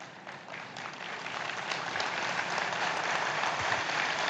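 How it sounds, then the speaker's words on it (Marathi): Audience clapping at a political speech in Maharashtra, a sustained crowd applause building slightly louder and holding steady, no voices over it. "इच्छुक अजून जोरात टाळ्या मारतात."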